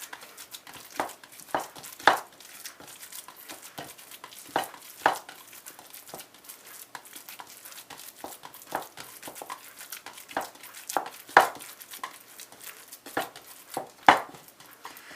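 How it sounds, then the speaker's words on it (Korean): Salisbury steak meat mixture kneaded by hand in a bowl, with soft, wet squelching and slapping pushes coming in irregular bursts against near silence between them, close and fairly quiet. "자, 골고루 섞인 후에는 이제 좀 손으로 잘 섞어 보겠습니다."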